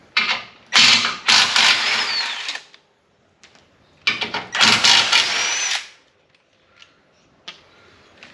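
A powered wrench undoes the 18 mm tow hook bolts under a Nissan Y62 in two loud whirring bursts of about two seconds each, with faint clicks and clunks between them.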